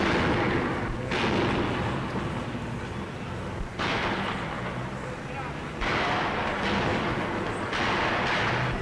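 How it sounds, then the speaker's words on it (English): Tear gas bombs fired by police during a dock strike riot in an old newsreel, heard as loud, dense bursts of booming blasts and crackling noise in several waves, each rising and then fading. "Police increase their barrage of tear gas bombs as the great dock strike grows ever more menacing."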